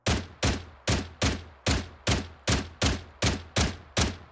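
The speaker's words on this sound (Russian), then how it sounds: "Теперь при стрельбе низкий уровень патронов в магазине сопровождается звуковой подсказкой." Eleven evenly spaced single gunshots from a firearm in STALCRAFT: X, each a sharp crack with a short decaying tail, fired at a steady rhythm about every 0.4 seconds, loud and close with no other sounds.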